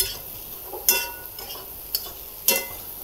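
Ingredients for fig (umbar) bhaji are mixed in a pan, with a soft background sizzle and three sharp scraping clicks of a spoon, close and fairly quiet, no voices.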